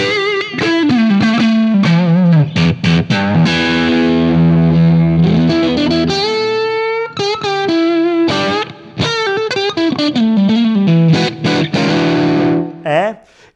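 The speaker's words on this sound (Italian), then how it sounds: "Se vado magari col pick up al manico, sentite che è proprio canterino." Electric guitar played on the neck pickup through a drive pedal gives a warm, singing, overdriven lead tone, with loud sustained notes and bends that ring out close and continuous.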